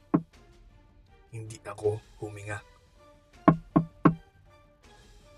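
Knocking on a door as a story sound effect: one knock, then a person speaks, then three sharp, loud knocks in a row close by.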